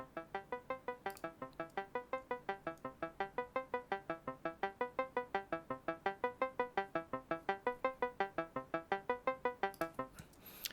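A simple two-waveform Retro Synth in Logic Pro plays the Stranger Things theme as a fast, evenly pulsing arpeggio of repeated notes, each pulse swelling and fading, the volume rising gradually before the pattern stops near the end.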